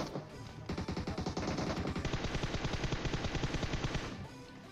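Rapid automatic gunfire from a gun in the video game PUBG Mobile rattles out as a dense, evenly spaced burst of shots lasting several seconds, loud and close with no talk.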